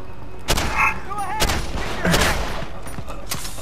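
Gunfire from Deus Ex: Human Revolution comes in bursts of sharp shots with some echo, mixed with game effects and a voice talking over it.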